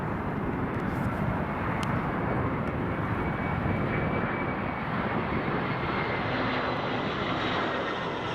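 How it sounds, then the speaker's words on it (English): An EasyJet airliner lands at Newcastle Airport, a continuous broad engine roar that stays loud and steady throughout the approach, with no talking. "for this EasyJet. Watch it land."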